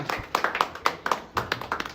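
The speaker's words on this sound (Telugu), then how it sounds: "క్లాప్స్." Scattered hand claps at a movie poster launch, a handful of sharp, close claps in an uneven rhythm from a small group.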